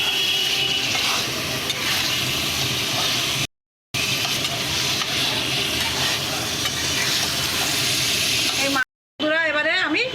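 Soft tangra fish go into a pan of cooked-down masala, setting off a loud, steady sizzle with stirring scrapes that runs almost without a break, and a voice briefly heard near the end.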